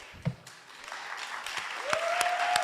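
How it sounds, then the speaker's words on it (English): An audience at a completion ceremony applauds the faculty, a crowd of hands clapping that builds and grows denser, with a few sharp individual claps standing out and a brief whistle near the end. "Can we please give them a round of applause for their hard work and dedication?"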